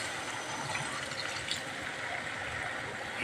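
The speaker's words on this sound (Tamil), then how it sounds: "இப்போ கொஞ்சம் தண்ணி ஊற்றிக்கலாம்." Water poured into simmering egg kurma in a pan, a steady faint splashing fill lasting a few seconds with no voices.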